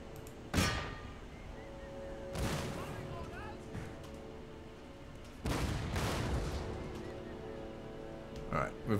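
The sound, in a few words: gunfire shots in Empire Total War video game battle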